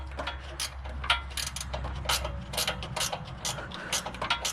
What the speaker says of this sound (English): So I got a wrench on it